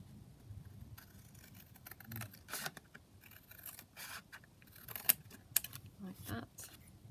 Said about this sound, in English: Okay, so I can trim that down now.